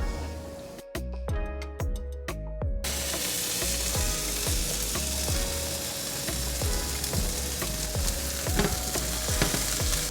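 Shrimp mixture sizzles steadily in a pan of melted fat for taco filling, with a dense continuous fry broken by repeated clinks and scrapes of a utensil, close and fairly loud throughout.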